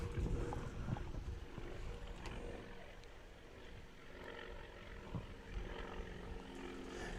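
A World War II Wildcat fighter plane passes overhead at an airshow STOL competition, its propeller drone steady and rumbling across the whole stretch, swelling slightly near the end.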